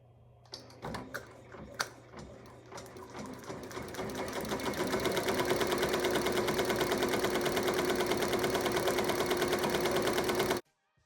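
A Ricoma embroidery machine stitches an embossed design, its rapid mechanical needle chatter starting in uneven bursts and then settling into a steady, loud, close rhythm before stopping abruptly.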